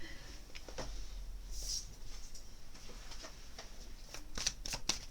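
Tarot cards shuffle quietly at close range: a soft, steady riffle and rustle of card stock, with a few sharper slaps toward the end.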